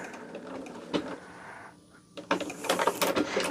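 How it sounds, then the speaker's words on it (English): A sewing machine runs in short, close bursts while making a back stitch, its mechanical clatter rising toward the end. "Let me do a back stitch here."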